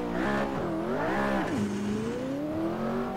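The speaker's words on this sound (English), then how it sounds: "what better car to test with than, of course, the McLaren P1?" McLaren P1 supercar in the Assetto Corsa racing game, its engine note rising and falling through gear changes with a sustained harmonic whine, loud and steady throughout with no talking.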